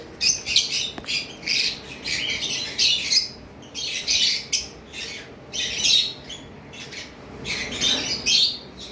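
Violet masked and green Fischer's lovebirds squawk in repeated harsh, shrill bursts, a lively chattering flock nearby with brief gaps between calls.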